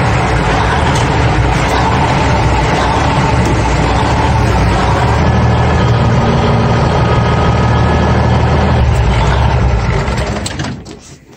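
A truck engine runs steadily with a dense, low mechanical drone and a whine rising midway, as when the hydraulics lift the dump bed, then the sound cuts off and fades near the end.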